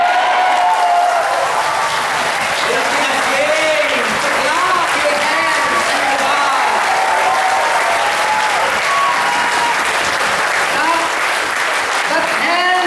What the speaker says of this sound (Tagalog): Huwag niyong ikahiya ang pumalakpak sa Diyos.